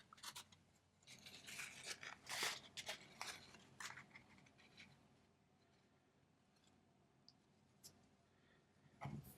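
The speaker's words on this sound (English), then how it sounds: "I'm going to use scissors" Scissors snip in a quick cluster of faint, close crisp cuts while a watercolor bookmark is being made, followed by a few scattered lighter clicks in a quiet room.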